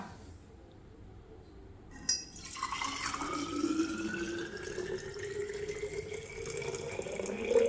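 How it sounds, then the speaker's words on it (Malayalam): Boiled, steaming water is poured from a vessel onto cumin seeds, a steady liquid stream that rises in pitch as the container fills, preceded by a brief clink and quieter handling. "നമ്മൾ തിളപ്പിച്ച വെള്ളം ഇത് കണ്ടോ ആവി പറക്കുന്നത് വേണ്ട തിളപ്പിച്ച് വെള്ളം എടുത്തിട്ടുണ്ട് അപ്പോൾ നമുക്കത് അതിലേക്ക് അങ്ങോട്ട് ഒഴിച്ചു കൊടുക്കാം"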